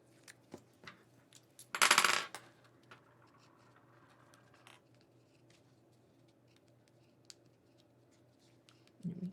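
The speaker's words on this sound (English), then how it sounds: "hopefully, this won't give me a hard time when I try to peel this part off" Backing paper peeled from a paper card piece while assembling a fancy-fold A-2 card gives a single short, close, rasping tear. Light taps come before it, and quiet handling follows.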